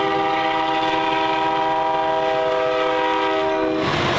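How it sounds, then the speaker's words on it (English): A train rolling through the Mojave Desert near Nipton, close to the Nevada state line, sounds a loud, sustained horn chord over a steady rumble of rolling cars. The horn cuts off near the end, leaving the rumble. "The most excitement we saw on our visit was one of a few trains rolling through"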